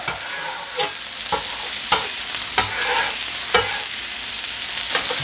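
Metal spatula scraping and chopping cheesesteak meat on a hot sizzling griddle: sharp rhythmic clacks and scrapes every half second or so over a constant frying hiss, close and alone.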